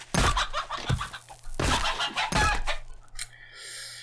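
A chicken in the 7 Days to Die video game clucks in a few loud, close bursts, followed by a quieter tail.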